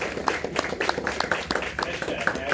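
On a belt test night, a small group gives a quick round of applause. The claps are individually distinct and fairly close, quick and uneven, with a few voices underneath.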